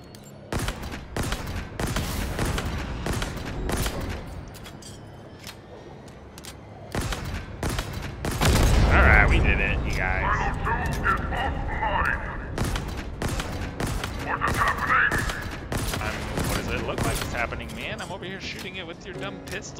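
Gunfire in the video game Halo Infinite, rapid bursts of shots crackling over a continuous game soundscape, with a heavier thumping blast midway and someone talking throughout.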